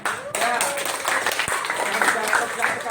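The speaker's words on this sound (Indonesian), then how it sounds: "Tepuk tangan buat Ale." A classroom of students claps for a pupil, giving a burst of dense, close applause over a few seconds with voices mixed in.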